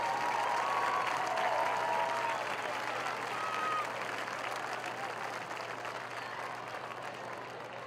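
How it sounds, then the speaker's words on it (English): A crowd at a homecoming varsity football game applauds the year's representatives. The clapping is steady and somewhat distant, with a few whistles and cheers on top, and it fades slowly. "Let's have a round of applause for our 2017 representatives."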